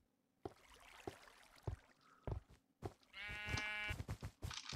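Sheep in the Minecraft video game bleat a few times in wintry weather, short nasal cries repeating close by over soft background noise, with no talking.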